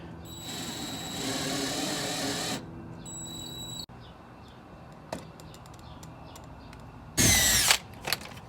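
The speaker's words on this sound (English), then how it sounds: "just use a drill with a star" A power drill with a star-tip bit whines in short bursts as it drives a screw into a diffuser on a BMW E46, with a few clicks and clunks between runs and a final sharp burst.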